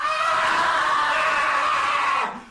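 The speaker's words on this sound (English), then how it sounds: "And immediately you hear a huge screeching noise." A huge screeching noise fills a small stone chamber around a sarcophagus, one loud sustained shriek that holds steady for about two seconds, then cuts off into a brief echoing tail.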